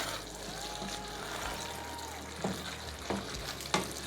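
Meat pie filling being stirred in a pan on the stove, a steady sizzling hiss with a few spoon scrapes and knocks near the end, close and fairly loud, with no talking.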